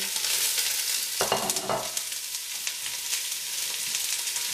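Onions fry in a pan with a steady, bright sizzle, broken by a sharp scraping burst as they are stirred, the sizzle continuing alone and up close.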